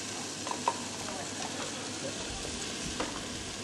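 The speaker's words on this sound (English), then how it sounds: "I've just browned off the steak that Ronnie's given me with a little bit of flour seasoning." A floured, seasoned venison steak sizzling steadily in a pan, a constant close frying hiss with a few faint clinks and stirring sounds.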